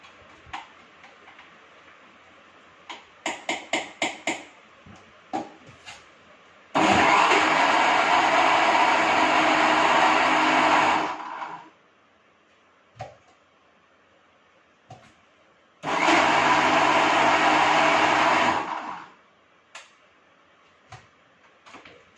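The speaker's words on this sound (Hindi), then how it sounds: "अब ये जो दाल है ये बिल्कुल अच्छे से पिस कर तैयार हो चुकी है।" A mixer grinder grinds soaked lentils in two loud, roaring bursts of several seconds each, with clicks and knocks of handling the jar before and between them.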